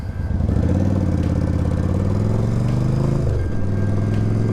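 A steady, loud engine rumble from cars driving past close by, holding for several seconds with a brief dip in pitch near the end as one vehicle goes by, no talking.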